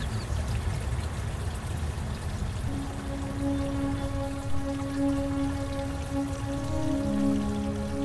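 Water trickles and patters steadily in a small daylighted urban creek, a soft continuous babble with a faint hum joining partway through.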